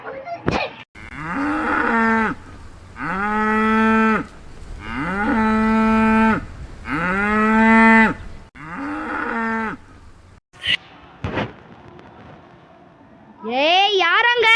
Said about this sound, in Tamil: ஏ ஓ வீட்டுக்கு எருமாடு போகுதுடி